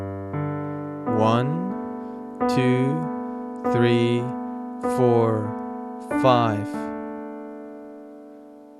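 Piano chords ring in a sustained pattern while a voice counts along, five spoken counts spaced evenly over the held notes.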